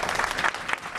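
Brief burst of audience applause at a political rally, close, irregular clapping with a few sharper hand claps standing out.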